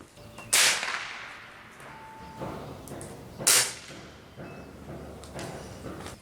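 Two sharp, loud shots from a RAW HM1000X LRT PCP air rifle a few seconds apart, each a crisp crack with a quick fade, followed by fainter clicks and handling noises.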